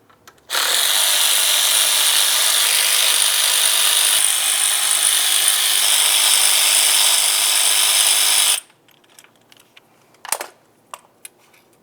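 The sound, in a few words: ratchet removing 8mm throttle body mounting bolts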